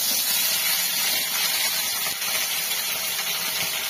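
Shrimp head paste is poured into hot oil in a kadai, giving a steady, loud, hissing sizzle that holds evenly from start to finish with no talking.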